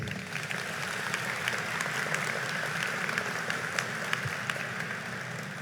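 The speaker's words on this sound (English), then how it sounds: "Now please join me in giving a round of applause to all our distinguished guests." A graduation ceremony audience applauds distinguished guests, a dense, steady wash of many hands clapping in a large hall, continuing throughout.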